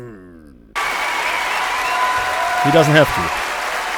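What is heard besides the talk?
audience applause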